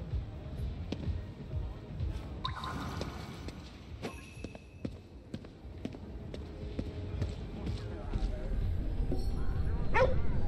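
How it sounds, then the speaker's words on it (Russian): Dog barks and whimpers in the video game Ghostwire: Tokyo, short yips and whines scattered over a dense game soundscape with footsteps and background noise, fairly close. "Собака."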